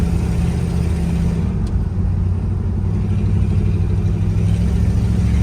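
A Ford F250 pickup's engine runs steadily at idle, a loud, close, low rumbling drone with a constant mechanical hum and no talking.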